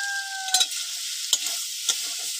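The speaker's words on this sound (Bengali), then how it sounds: "দেখুন এইভাবে একটু নাড়াচাড়া দিয়ে ভেজে নেব।" Hill bamboo shoots cooked with fish are stirred in a hot pan, a steady sizzle broken by three quick scraping stirs.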